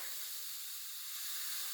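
A steady, soft hiss of steam fills the clip without a break, like hot metal being quenched in water, with no voices.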